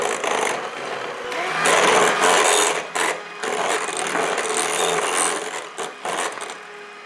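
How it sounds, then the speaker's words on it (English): Chocolate dream bar ingredients being mixed together in a bowl with an electric mixer, a steady whirring and scraping that surges and dips for several seconds, close up with no talking. "We're just trying to mix all these ingredients together."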